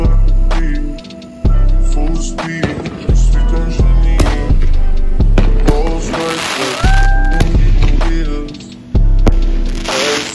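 Loud Fourth of July fireworks bursting outside in a rapid series, sharp booms and crackles recurring every second or two, with a whistling rise partway through, close and dominant.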